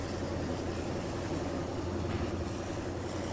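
A diesel locomotive engine at full power in Train Simulator Classic, on a Taurus Mountains route in Turkey, gives a steady, close, throbbing low drone with no breaks or voices.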